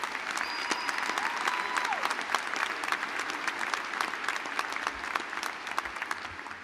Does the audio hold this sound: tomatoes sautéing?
no